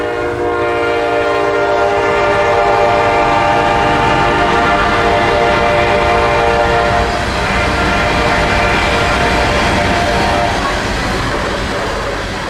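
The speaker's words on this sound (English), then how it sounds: "on track 2 here comes IO 3202, a peak season extra carrying Tropicana juice, double stacks, and piggybacks" A northbound freight train carrying double-stack containers and piggyback trailers rolls past close by, loud and steady, with its horn blaring in long sustained blasts over the continuous rumble and clatter of the cars.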